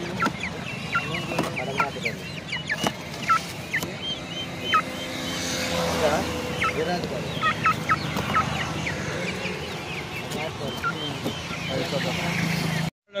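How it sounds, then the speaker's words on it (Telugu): Kadaknath chickens cluck repeatedly nearby, short bursts scattered throughout, with other birds calling and background murmur beneath. "కొండమూడులో రకరకాల కోళ్ళు ఉన్నాయి."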